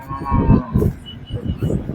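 A calf moos in several short, low, throaty calls close by, with brief pauses between them.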